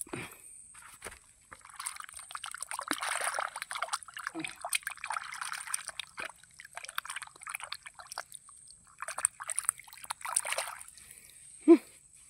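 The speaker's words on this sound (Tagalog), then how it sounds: "Gugas muna ako ng kamay." Water trickles and splashes as sticky hands are rinsed outdoors, with intermittent dribbling and small splatters close by, soft and uneven, plus a brief louder slap near the end.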